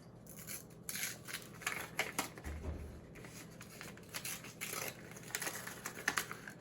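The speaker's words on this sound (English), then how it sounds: "we're gonna give it an open. Let's see what's inside this cool little envelope" A small paper envelope is torn and opened by hand in a close, quiet room, giving a string of short crisp paper rips, rustles and crinkles with brief pauses.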